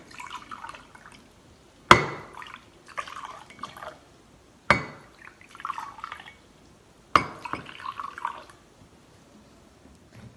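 Water poured from a bottle into several cups, about a quarter cup each, for a pH science experiment: four short, close pours, each opening with a sharp clink of the cup, with no talking.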